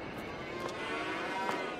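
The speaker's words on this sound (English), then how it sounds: "These are all milk cows." Milk cows in a cow barn let out low moos over a steady barn hum, a few calls rising briefly at moderate distance.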